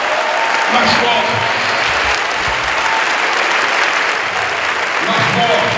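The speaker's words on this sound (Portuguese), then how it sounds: "Aplauda aí." A church audience claps loudly and continuously, a dense sustained wave of applause filling the hall, with voices faintly beneath it.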